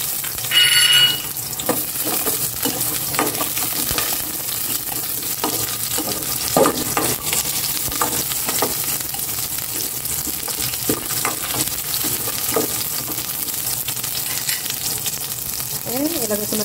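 Garlic and onion sauté in a hot pan, a continuous close sizzle broken by repeated scraping stirs and clicks of the utensil, with no voices.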